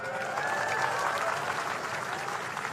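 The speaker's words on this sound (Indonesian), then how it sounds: "Tepuk tangan semuanya, keren." A large crowd at an outdoor ceremony claps steadily with dense, even applause and faint voices mixed in, sustained and fairly loud.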